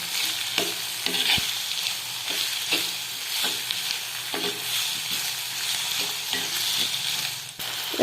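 Onion, tomato and green chilli frying in a pan, a steady sizzle broken by regular scraping strokes of a spoon stirring, close and continuous with no talking.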